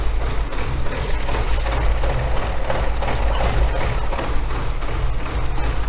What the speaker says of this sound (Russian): Смотрите на мотор.